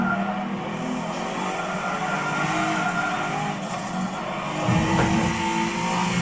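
A race car in Forza Motorsport 7 simulation mode on a track with freshly warmed tires, engine droning steadily at high revs with some tire scrub and a brief surge near the end, no talk.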